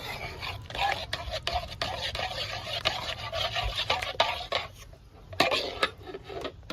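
A spoon clinks and scrapes in a pot while a Thai dipping sauce for fried meatballs simmers. The knocks are irregular and close, with a soft background hiss and no talking.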